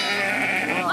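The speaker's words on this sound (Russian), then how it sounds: "дядя Коля возвращается к своим баранам." A single sheep bleat on a farm in Urusovo village, Mordovia, wavering and close, sustained for about a second with a faint second voice rising near the end.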